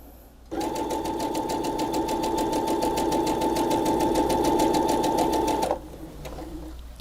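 Sewing machine stitching quilt fabric for a block, a close, loud, steady mechanical hum with rapid needle clatter running for about five seconds before stopping abruptly.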